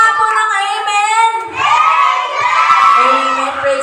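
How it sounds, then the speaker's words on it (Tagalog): Children and adults in a crowd at a church vacation Bible school graduation ceremony shout together in a loud, sustained collective cry, swelling after a brief dip and holding steady to the end. "Sigaw nga po ng amen!"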